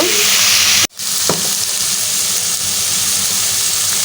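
Tender snake gourd being fried with egg in a pan, a loud steady sizzle that cuts out abruptly for a moment and then resumes with a light stirring clink.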